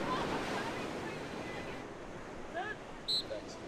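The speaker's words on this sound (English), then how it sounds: "Away they go into the shore break" Waves breaking in the shore break at Clifton beach, Cape Town, during a lifesaving sport relay, a steady faint wash of surf with wind and a few brief faint sounds over it.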